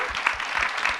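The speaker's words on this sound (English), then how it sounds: "let's give another round of applause to this amazing panel" Sustained applause from a conference audience for a housing conference panel in Queens, a dense steady wash of many hands clapping close and fairly loud for the whole stretch, with no talking over it.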